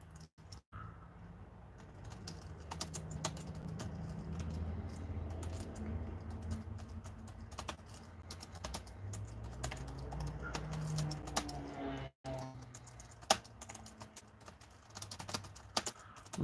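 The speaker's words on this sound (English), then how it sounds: "Let me type out the question." Steady typing on a computer keyboard runs the whole time, a dense patter of quick key clicks at close range with a low background hum and no talking.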